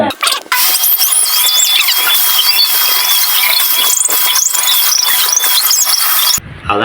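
A vacuum cleaner runs loud and steady with a shrill, whistling whine for about six seconds, then cuts off abruptly.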